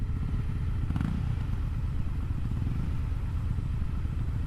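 A Honda Rebel motorcycle engine runs steadily nearby, a continuous low rumble with a brief clatter near the start and no talk.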